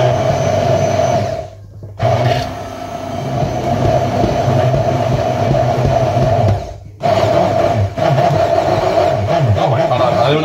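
A blender whirs loudly blending green sauce for hake, cutting out briefly twice and starting up again, with some talking underneath.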